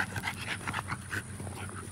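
A dog pants close by, a quick rhythmic series of breathy huffs, fairly quiet.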